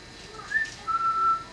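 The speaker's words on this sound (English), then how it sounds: "Where's that whistle?" A person whistles two short pitched notes, the second a longer steady tone, fairly close and alone without talk, during a family gathering at a farm.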